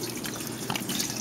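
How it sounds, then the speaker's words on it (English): Water poured into a crab pot fitted with an insert, a short steady splashing and trickling stream heard up close on its own. "Water goes in."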